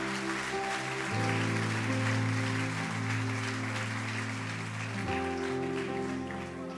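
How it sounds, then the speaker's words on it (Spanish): Church congregation applauding loudly and steadily during a Sunday service, the clapping blended with sustained keyboard or organ chords playing underneath throughout. "Si quieres darle un aplauso fuerte a Dios."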